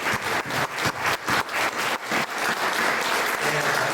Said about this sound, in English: So let's give them one big round of applause.